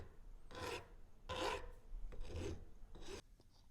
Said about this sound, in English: put it back in the vise with a file and just go around and clean up that copper